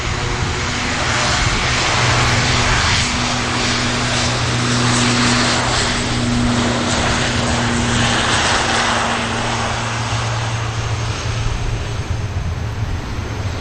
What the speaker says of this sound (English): we have the ITA touching down from Milan at Lanate